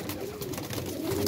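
Teddy breeder pigeons coo nearby, soft low throaty warbles over a busy background murmur.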